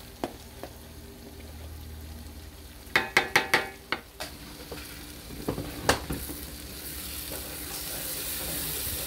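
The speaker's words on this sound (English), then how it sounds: "Put some garlic paste in there." Garlic paste hits a hot pan of curry and sizzles steadily, broken by a quick run of sharp utensil knocks against the pan and a few later clinks of stirring, all close and without talk.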